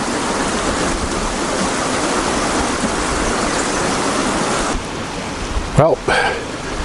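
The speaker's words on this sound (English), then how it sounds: "A little shot of Hacienda Creek." Hacienda Creek runs in a steady broadband rush of flowing water, loud and continuous, with a brief clatter of handling near the end.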